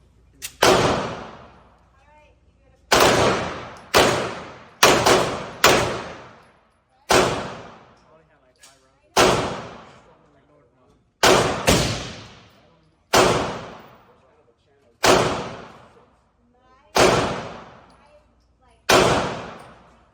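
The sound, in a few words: gunshots from B&T KH9 firearm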